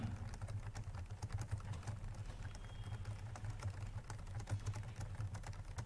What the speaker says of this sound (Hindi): जैसे हम यहाँ पे कुछ टेक्स्ट टाइप करेंगे